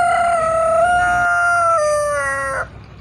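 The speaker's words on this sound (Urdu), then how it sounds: "کیا خوبصورت مرغے کی اذان۔" A rooster in a Punjab village gives one long, loud crow close by, a drawn-out call that holds and falls before stopping abruptly, with soft rural background behind it.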